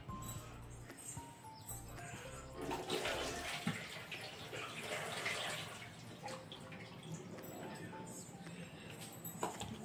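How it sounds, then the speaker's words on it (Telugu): Salt water is poured off soaked raw bananas, a close, splashy stream of water running out of a vessel with gurgles and light clinks, and a faint voice underneath. "ఈ సాల్ట్ వాటర్ అంతా తీసేద్దాం ఇందులోంచి"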